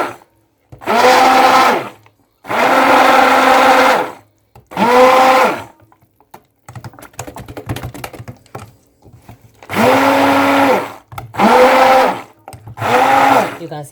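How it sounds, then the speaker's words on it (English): Hand mixer whirring through cold process soap batter with activated charcoal, run in six loud bursts of one to two seconds with pauses between, plus a stretch of quiet handling noise in the middle. "When you're mixing with your hand mixer, you don't have to do it continuously."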